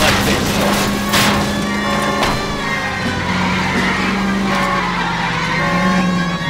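A car chase in L.A. Noire: a loud engine roars and shifts pitch while tires squeal and skid in sharp bursts, sustained close throughout.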